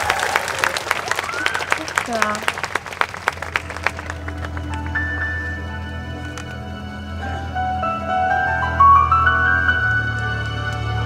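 An audience claps for a music troupe's singer and dancer about to perform, a brisk patter of hands over a voice at first, fading after a few seconds as instrumental music swells in.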